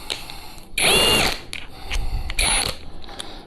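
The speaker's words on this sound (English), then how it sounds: "Anybody else just run the drill to get it to seat" A power drill seats bolts on a Tacoma wheel being stripped of its simulated beadlock ring, with two loud whirring, ratcheting bursts of about a second each, separated by quieter handling noise, heard close up.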